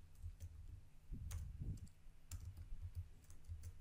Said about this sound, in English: here I'm going to open a new tab and I'm going to type Fedora 40